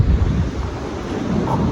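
Waves and wind at an ocean shore, a steady low rumble of surf with wind buffeting the microphone, loud and continuous with no talking.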